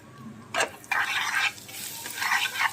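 A tadka for pav bhaji, with a pinch of sugar added, fries in hot oil in a pan, bursts of loud close sizzling rising and falling as it is stirred, alone without speech.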